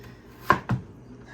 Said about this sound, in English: we're just going to cut these into wedges that we are happy with